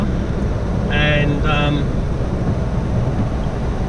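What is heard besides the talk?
wind blowing on a rainy day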